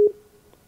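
Skype call beep tone: a single short electronic pitched beep at the start, ending in a brief fading tail, followed by near silence.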